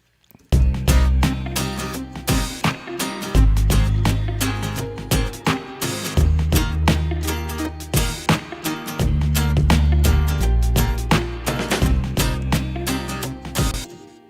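An acoustic guitar strums and picks steadily over a bass line, with sharp percussive attacks, sounding like a full recorded track played back at moderate volume.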